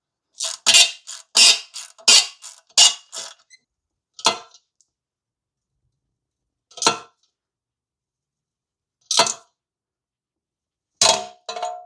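A wrench works at seized, very rusty bolts on a Yamaha R6 motorcycle, giving a quick run of sharp metallic clanks and creaks followed by several isolated loud cracks spaced out over silence, with no talking.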